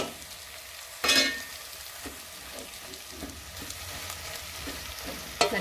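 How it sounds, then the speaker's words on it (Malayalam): Drained macaroni is stirred into masala in a frying pan: a soft sizzle runs under intermittent scraping strokes, with a sharper clatter near the start and again at the end. "നന്നായിട്ട് ഈ മസാല ഇതുമൊക്കെ പിടിക്കുന്ന തരത്തിൽ ഇളക്കി യോജിപ്പിക്കുക."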